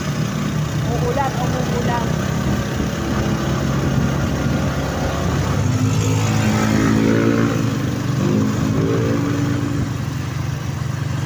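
A tricycle's small motorcycle engine idles and putters close by, with a slight rise in revs midway, while people talk over it.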